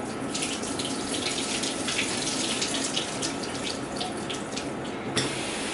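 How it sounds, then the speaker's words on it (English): Tap water runs steadily into a sink as food taken out of vinegar is rinsed beneath it, a continuous close splashing hiss that holds an even level throughout, with no talking. "Now I'm just gonna wash them off really quickly."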